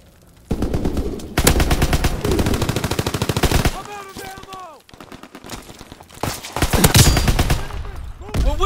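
A gun turret in the video game Call of Duty WWII, on the Gibraltar multiplayer map, fires loud, rapid machine-gun bursts in several long volleys separated by short gaps, with shouted voices over the shooting.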